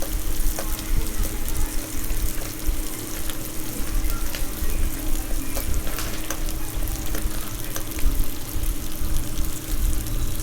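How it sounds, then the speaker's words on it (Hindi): Onions fry with spices in a pan for a pea and potato curry, a dense, continuous sizzle with faint stirring clatter, close and steady for several seconds without talk. "प्याज डालने के बाद सिर्फ 4 सेकंड फ्राई करना है इन सभी चीज़ों के साथ"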